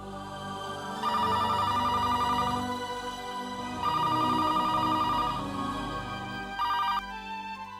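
A telephone rings loudly in three separate bursts, each a rapid electronic trill. No voices are heard over it.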